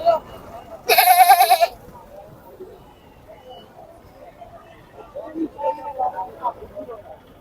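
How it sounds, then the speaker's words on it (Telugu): A male goat of about 13 to 14 kilograms at a weekly Saturday village livestock market in Manapuram near Vizianagaram gives one loud, close bleat, followed by people talking nearby. "మేకపోతే చూడండి ఎంత ఉందో."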